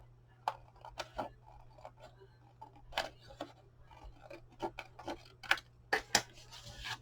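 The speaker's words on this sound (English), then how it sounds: "So I'll just go ahead and cut those apart there" Small paper cards for a spring mini album being cut apart with scissors, a series of quiet, close snips and rustles at irregular intervals against a low steady hum.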